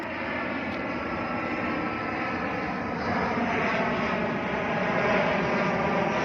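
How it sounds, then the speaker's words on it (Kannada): A fixed-wing airplane passes low overhead near an airport in the evening, its engine roar steady and loud. The noise swells slightly as the plane comes closer, with no voices. "ಫ್ಲೈಟ್ ನೋಡಿ ಬರ್ತಾ ಇದೆ"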